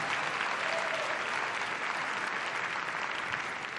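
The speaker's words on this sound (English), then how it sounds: "please give a massive round of applause for Glüxkind and for all of our semifinalists here today" Sustained, dense audience applause fills a large hall at the Web Summit Vancouver 2025 pitch competition semifinal, a steady, even wash of many hands clapping at once with no voices on top.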